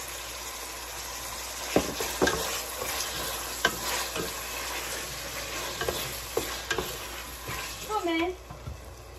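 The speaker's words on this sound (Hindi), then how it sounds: "अब मैं इसमें टमाटर डाल रही हूँ।" Chopped tomato pieces drop into beef frying in a pan for palak gosht, bringing a steady sizzle with scraping stirs and a few sharp clacks of the spoon against the pan, close up. Faint talk runs underneath.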